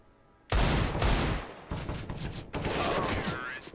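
Rapid gunfire bursts in Counter-Strike: Global Offensive as a player pre-fires a corner, loud dense volleys starting abruptly, pausing briefly, then resuming in two more bursts.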